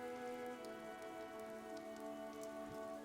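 Steady rain falls without a break in a video game, an even wash of droplets with a constant low tonal hum underneath.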